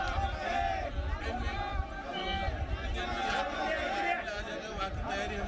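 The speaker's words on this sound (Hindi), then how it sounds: "पूरी भीड़ है यहाँ पर।" A large crowd gathered at Baramati for Ajit Pawar's last rites fills the air with a dense, continuous murmur of many voices, some nearer talk standing out from the babble.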